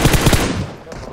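Rapid bursts of automatic gunfire from the battle royale game BGMI crackle loudly in quick succession, then trail off into quieter background noise.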